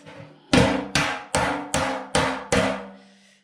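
A hammer taps the side panel bodywork of a Lambretta GP scooter six times in a steady rhythm, each close, ringing metallic knock decaying quickly, with no talk over it.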